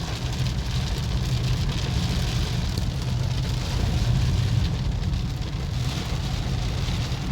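Heavy summer storm rain pours down in a steady, dense roar, with a low vehicle rumble underneath and no one speaking.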